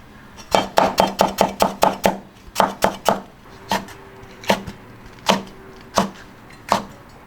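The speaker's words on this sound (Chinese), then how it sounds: "姜切片。" A knife slices ginger on a cutting board with a quick run of about eight sharp taps, then sparser single chops spaced out, close and crisp with no talk.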